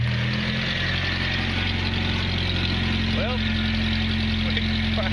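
A car engine idles steadily and loudly at close range on a freshly finished garage project car about to take its first test drive, a constant low rumble throughout.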